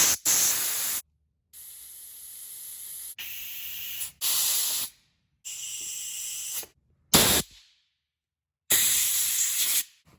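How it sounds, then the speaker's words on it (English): Compressed air blasts through a small engine carburetor in several loud, harsh hissing bursts of a second or so each, separated by short silences. "you push air through wherever you can push air through"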